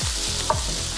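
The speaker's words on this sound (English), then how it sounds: "Keep giving this a little stir" Pancetta and mushrooms fry in oil in a pan while being stirred, giving a brief, steady sizzle with a couple of soft scraping strokes, close and clear.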